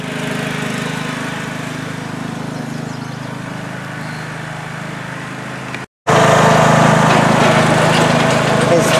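Small tractor engine running steadily in an outdoor neighborhood, a continuous droning hum that cuts out briefly and returns louder, with some voices in the background.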